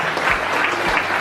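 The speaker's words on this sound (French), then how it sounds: "J'aimerais bien qu'on l'applaudisse parce que c'est vraiment génial ce qu'il fait pour nous." Steady, dense applause from the audience at the opening ceremony of a poker camp arena event, a full crowd clapping continuously at moderate loudness.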